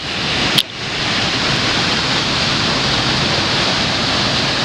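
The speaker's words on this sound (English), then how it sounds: "But Paria waterfall is still with us" Paria waterfall after a flood, a loud, dense and steady roar of rushing water, close by and unbroken apart from a brief sharp click near the start.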